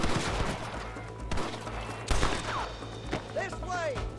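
Gunfire in the video game Red Dead Redemption 2: several sharp shots and bursts crack over a steady low background, with a player's voice talking in between.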